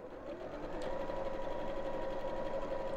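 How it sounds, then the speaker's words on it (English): A sewing machine stitches a fabric peg bag with a quiet, steady mechanical whir and fast needle rhythm that runs continuously and softly up close. "So I'm just going to sew, just enough so I can turn it, basically."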